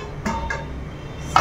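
Dishes being washed in a home kitchen, with a few separate clinks and knocks of pots and utensils spread over a couple of seconds against a low steady background.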